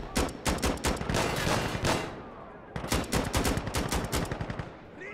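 Automatic gunfire in Insurgency Sandstorm rattles in loud, fast bursts passing close overhead, two long strings of rapid shots separated by a brief pause.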